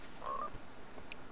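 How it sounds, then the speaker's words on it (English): Frog croaking inside the Fortnite video game, a single short game-audio croak heard over a steady background of in-game ambience, with a brief higher chirp near the end. "A frog? Should I kill this frog?"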